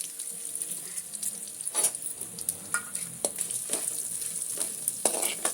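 Whole peppercorns, coriander seeds and cumin sizzle steadily in hot oil, with occasional sharper crackles and pops rising over a continuous frying hiss for several seconds.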